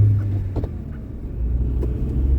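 A car travels along a winter road, its engine and tyres giving a close, steady low rumble with a few light knocks and slight swells in level, no voices.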